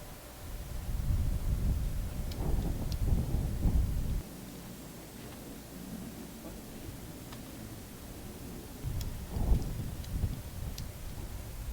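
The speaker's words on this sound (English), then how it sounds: "It's too windy." Strong wind buffets the microphone outdoors in heavy rumbling gusts, loud at first, then easing to a steady hiss before gusting again.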